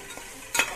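Onion and tomato sizzle in a pan while being sautéed and stirred for a Thalassery fish biryani, a soft frying hiss that swells into a brief louder scrape and sizzle near the end.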